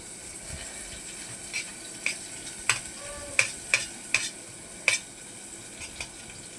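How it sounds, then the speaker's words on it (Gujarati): Ingredients sautéing in a pan, a steady low sizzle punctuated by a series of sharp spoon taps and scrapes against the pan, close and alone, without talk. "થોડી વાર સાતળવાનું, થોડી વાર સાતળવાનું"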